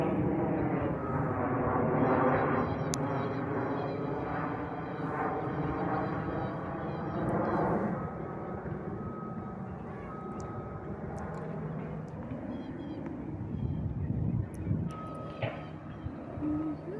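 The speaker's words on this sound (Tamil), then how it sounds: "ஃப்ளைட் ஒன்று வருது பாரு." An airplane passing overhead above a city park produces a steady, loud broadband roar that holds throughout, with scattered sharp clicks and faint voices of people nearby.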